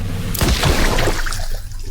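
A heavy video game explosion bursts out as a boom, followed by a rumbling, crackling tail that lingers at steady loudness before fading slightly.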